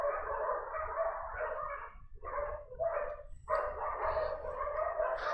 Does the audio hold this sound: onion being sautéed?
no